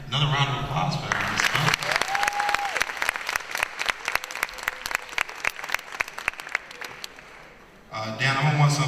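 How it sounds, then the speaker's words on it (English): Audience applause at an award ceremony, a steady burst of clapping from a crowd lasting several seconds, with speech over a loudspeaker before and after it. "another round of applause for her."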